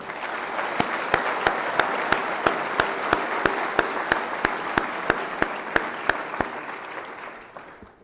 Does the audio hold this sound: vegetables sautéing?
no